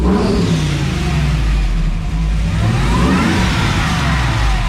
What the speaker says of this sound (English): You can hear the blower.